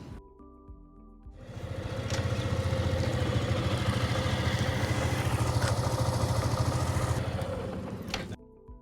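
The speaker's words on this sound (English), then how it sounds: "Let's check the drive chain movement by turning on the engine." A motorcycle engine runs after drive chain cleaning and lubrication, starting up and then holding a steady, close, throbbing idle with a mechanical clatter for several seconds before cutting off.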